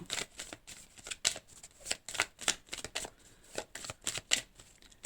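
Oracle cards being shuffled and drawn by hand: a close, quiet series of rhythmic riffles and soft snapping flicks, repeated steadily without speech.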